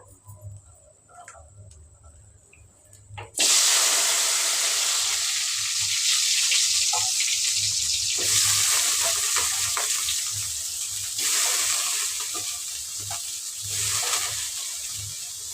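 Chopped onions dropped into well-heated oil, a sudden loud crackling sizzle bursting in after quiet kitchen sounds and continuing close and steady, swelling now and then as the pan is stirred.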